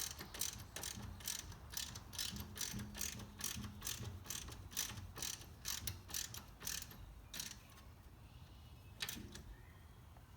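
A ratchet clicks quickly and evenly, tightening the 12mm bolt on a brake line clip of a 2016 Honda CR-V, the rapid run stopping near the end with one more short burst, faint and close.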